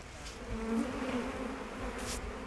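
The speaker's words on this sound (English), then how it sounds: "Meliponine bees, native to Yucatan, live here." Stingless Meliponine bees native to Yucatan buzz close by in the rainforest, a steady droning hum with wingbeat tones rising and falling as insects move around, with no talking.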